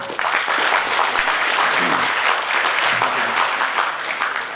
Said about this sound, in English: I again request you everyone to have a big round of applause for all of them.